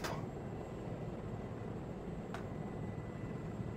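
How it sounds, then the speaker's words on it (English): An aircraft in Arma 3 taking off, heard as a steady, loud broadband engine roar that holds evenly throughout with a brief sharp click partway through, and no talking. "I think we're clear for takeoff"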